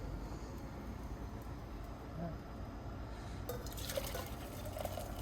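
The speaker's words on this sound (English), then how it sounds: "Now let's bring the water over, pour it into our kettle." Boiling water poured from a hot pot into a kettle while making pour-over coffee with a Kalita Wave 185 ceramic dripper. A low, steady background gives way to a brighter, splashing pour about two-thirds of the way through, moderately loud and close.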